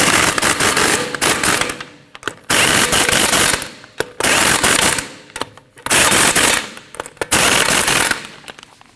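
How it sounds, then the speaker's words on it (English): A power tool tightens the five lug nuts on a 2013-2019 Ford Escape wheel: five loud, close, rattling bursts, each lasting one to two seconds, separated by brief pauses, with no talking. "Now you want to tighten your 5 lug nuts up in a star pattern."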